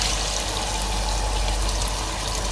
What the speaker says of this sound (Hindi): और गोश्त के अंदर से जो पानी निकला था वो मैं इसमें डालूँगा पहले।